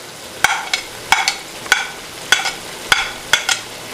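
Chopped tomatoes going into sizzling chicken karahi, heard as a series of sharp spoon scrapes and clacks against the pan, about six evenly spaced strokes over a low frying hiss, close and fairly loud.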